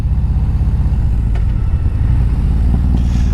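Harley-Davidson Road Glide motorcycle engine running on a ride along Lake Washington Boulevard in Seattle, a loud, steady, deep rumbling throb close up, with faint wind and no talk.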